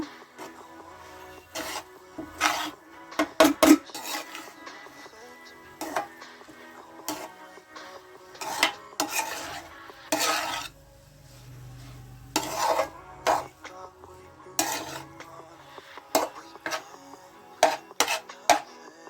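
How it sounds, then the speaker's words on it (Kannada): A spoon stirs and mixes cooked coriander rice in a metal pan, giving repeated scraping and clinking strokes in irregular bursts, close and fairly loud, with quiet gaps between them. "ಇವಾಗ ರೈಸ್ ಎಲ್ಲ ಹಾಕೊಂಡಾಗಿದೆ. ಚೆನ್ನಾಗಿ ಮಿಕ್ಸ್ ಮಾಡ್ಕೋಬೇಕು."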